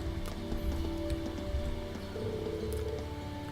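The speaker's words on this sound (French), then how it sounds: "Le son de la pluie qui tombe est plutôt relaxant." Steady rain falls in a scene from the video game Trails of Cold Steel. It is a dense, continuous patter with faint scattered drops and a low background hum, and no one speaks.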